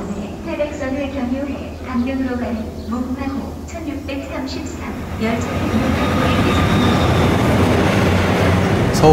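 A train rumbles steadily along the rails, leaving Seoul, with a constant low drone that grows louder and noisier toward the end, while a voice talks over it early on.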